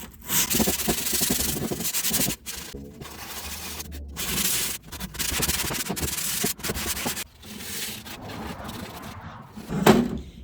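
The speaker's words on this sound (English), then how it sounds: "wrap what's left of my sanding paper around it, and try to get in these corners" Steady rasping strokes of sandpaper wrapped around a sponge, rubbed by hand into the corners of a wooden vanity, back and forth in uneven bursts with brief pauses, close and fairly loud.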